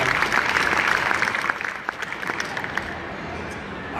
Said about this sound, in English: So let's give him another round of applause.